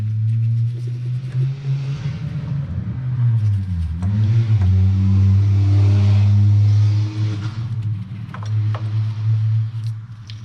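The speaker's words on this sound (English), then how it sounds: "You're okay with a hole in his muffler, thinking it's an awesome car." Car with a hole in its muffler revving nearby, a loud raspy low rumble that idles, dips, then swells into a sustained rev before settling back to a rough idle.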